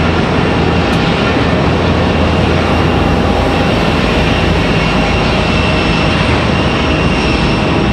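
A Swoop airliner departing from Raleigh-Durham International roars as a broad, loud, continuous jet rumble that stays steady throughout, with no voices heard.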